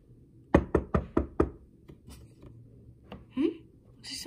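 Five sharp knocks rap on a door in quick, even succession, loud and close, followed by faint scattered household noises and a short murmur of voices.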